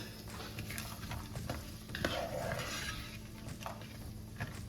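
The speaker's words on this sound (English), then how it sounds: "Now that we have a little fry going on here" Peppers, onions and a stalk of celery fry in a pan for a vegan chili, giving a steady close sizzle with soft stirring scrapes and occasional utensil taps throughout.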